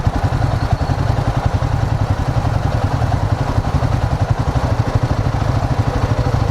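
Royal Enfield Himalayan 450 motorcycle with a 40 hp engine, close up under acceleration while overtaking, a steady loud pulsing exhaust drone with a dense throbbing beat and no talk.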